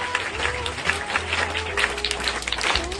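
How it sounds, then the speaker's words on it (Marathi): A short burst of audience applause at a school event, many hands clapping together at once, fairly close, with some low background murmur underneath. "टाळ्या वाजवून सर्वांनी स्वागत करायचं"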